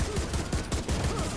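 Rapid bursts of gunfire from the video game The Division, several quick overlapping shots in a short dense volley, loud and close with no talking.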